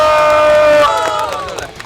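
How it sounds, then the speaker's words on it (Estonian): At an outdoor park festival, a crowd bursts into cheering and applause, with loud voices and clapping that fade over about two seconds. "Teeme suure aplausi!"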